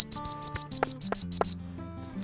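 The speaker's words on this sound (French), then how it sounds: "On commence à lui inculquer le rappel au sifflet, c'est vraiment plusieurs petits coups." A hunting dog recall whistle blown in a rapid series of about ten short, shrill blasts close by, followed by a moment of near quiet.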